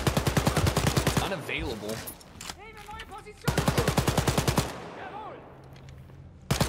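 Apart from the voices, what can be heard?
gunfire in the video game Wolfenstein: Youngblood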